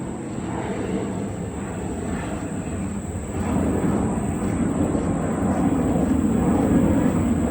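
Airplanes fly over a wooded neighborhood trail near Reagan Airport in Alexandria, Virginia, a broad distant roar that swells louder midway and holds steady.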